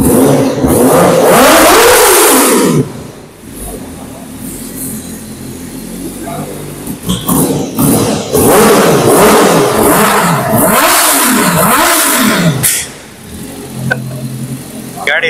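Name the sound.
Honda CBR Fireblade RRR superbike engine revving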